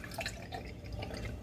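A cup of milk poured for a muffin batter makes a soft, close liquid trickle with faint splashes, quiet and with no voices.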